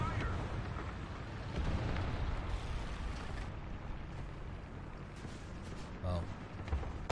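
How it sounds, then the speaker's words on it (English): Artillery strike explosions in a War Thunder ground battle with a US tier 3.7 lineup: a dense, continuous rumble of heavy blasts and low booms that rolls on throughout, with a few sharper thuds standing out near the end. "Artillery strike"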